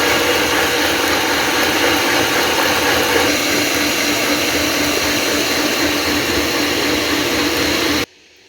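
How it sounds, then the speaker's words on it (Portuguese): An electric mixer whirs loudly and continuously as it beats quail egg batter for a sponge cake, a constant motor drone with no talk, stopping abruptly at the end. "E agora já vou começar a bater, deixar no mesmo ponto dessa outra massa"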